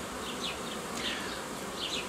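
Honeybees buzz around a beehive in a continuous, dense drone, with individual insects flying close by and passing.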